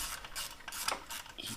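A ratchet clicks in quick repeated bursts while undoing the T25 screws of the exhaust heat guard on a KTM Super Adventure motorcycle, close and fairly quiet with no talking.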